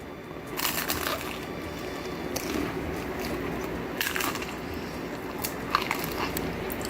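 Crunchy bites into the crispy crust edge of a gluten-free margherita gourmet pizza with a cheese crust, several close crunches spread over a steady room background, no talking.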